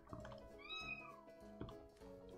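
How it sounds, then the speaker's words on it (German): A Minecraft cat gives a single clear, rising-and-falling meow, close and fairly loud, with quieter game sounds around it and a sharp noise at the very end. "Eine Katze ist ein lauter Miauer"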